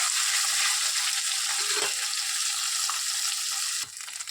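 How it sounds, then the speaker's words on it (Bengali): Fish fries in hot oil with a loud, steady sizzle close by that holds for several seconds, then drops off abruptly near the end, with no talking. "এবার দেখুন আমি মাছটা ভেজে নেব"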